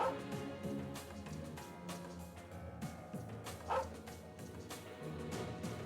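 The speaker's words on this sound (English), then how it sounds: "Oh, it's the dog from last time." A dog in the video game Trails of Cold Steel II barks a few times, with one sharper yelp near the middle, set against a steady layer of game music.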